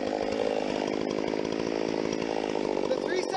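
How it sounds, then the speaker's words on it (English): A Husqvarna 372 chainsaw runs at steady high revs while cutting into a felled tree, a loud, continuous buzzing drone close by. "The 372s are one of the best saws out there."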